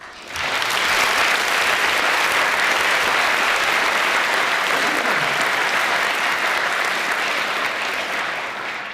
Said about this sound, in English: please join me in a round of applause for our guests